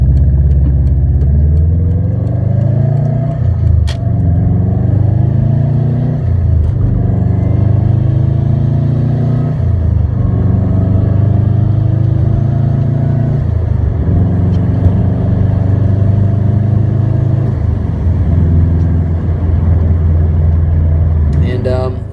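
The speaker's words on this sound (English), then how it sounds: "Take it for a test drive." A Subaru WRX with a swapped-in JDM V7 STi 6-speed gearbox drives steadily, engine droning loud and close and rising through repeated gear changes, with a brief pause in revs between each shift.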